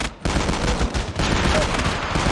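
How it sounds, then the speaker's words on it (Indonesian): Shotgun fire in Call of Duty Mobile, a dense, loud, continuous barrage of blasts with a brief dip near the start, close and rough with heavy low-end punch. "Wah ini serius shotgunnya kayak gini nih John."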